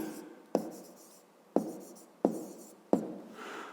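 Pen or chalk writing out a fifth-grade math word problem by hand, heard as four sharp taps spaced about a second apart, each followed by a soft scratching stroke, close and fairly quiet with no talking.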